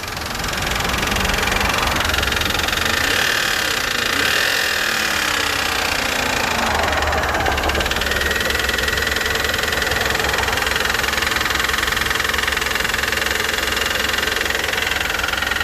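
A Pontiac car engine with a bent rod runs loudly and continuously with a heavy, rhythmic knocking clatter throughout, close by and rough.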